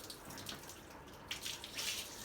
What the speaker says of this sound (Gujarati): હવે નળ બંધ કર.